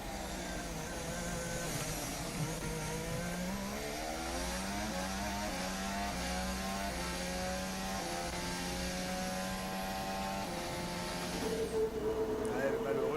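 Formula 1 cars during second practice at the 2023 Italian Grand Prix, a continuous loud engine whine with rising, stepping pitch as the cars accelerate and shift. A commentator talks over it.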